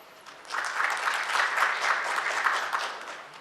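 An audience claps warmly for the panelists at a 2015 Korean future-finance forum session, the applause swelling quickly, holding steady, then fading.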